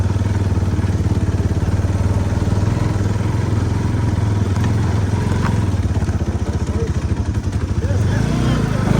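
A motorcycle rides on a muddy off-road dirt track at Jhanda Park after rain, its engine chugging at mid pitch throughout while people talk nearby.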